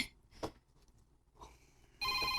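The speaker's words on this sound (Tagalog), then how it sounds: "May nanawag." A telephone rings with an incoming call: a loud, steady electronic ring starts abruptly near the end and carries on, after a quiet stretch with faint room sounds.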